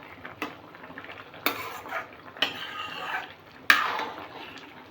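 Potato and okra pieces being stirred in a pan, a soft steady sizzle underneath with several sharp metallic clinks of a spoon against the pan at irregular intervals, close and fairly quiet.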